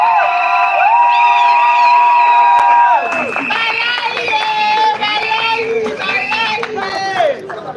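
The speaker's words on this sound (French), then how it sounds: "Applaudissez, c'est pour ça qu'on est venu." Wedding guests at a civil marriage ceremony clapping and cheering, a lively mass of applause with voices calling out over it, close and sustained throughout.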